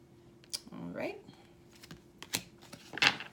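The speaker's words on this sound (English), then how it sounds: "One more shuffle." A deck of oracle cards is shuffled during a tarot-style reading, with soft papery flicks and taps in a few brief bursts, and a voice speaking quietly between them.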